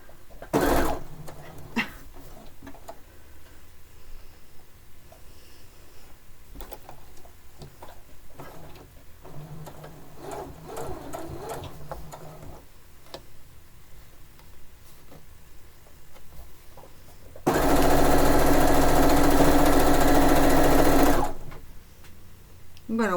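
A sewing machine stitches a fishing-themed quilt in one long continuous whirring run near the end, loud and close, after a stretch of quiet handling noises and small clicks.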